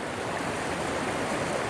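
River water rushing down over bedrock at the mouth of the Hourglass rapid, a steady broadband roar with no let-up, close and fairly loud, with no voices.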